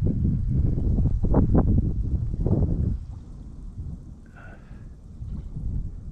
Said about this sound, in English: that wind is just, oh man, you get a gust of it right to the face and it is just absolutely brutal